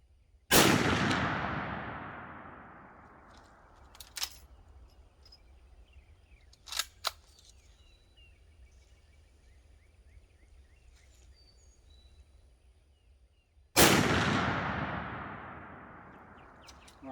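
Two loud, close rifle shots from a lever-action gun, each a sharp blast with a long ringing decay, separated by about thirteen seconds of quiet broken only by a few faint clicks and small clanks of handling.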